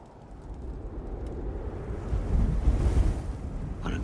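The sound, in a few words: wind on a cold winter night, film sound effect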